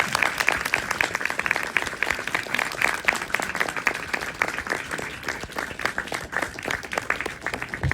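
Audience at a BFI Flare film Q&A applauds steadily, a dense, even wash of many hands clapping throughout with no break.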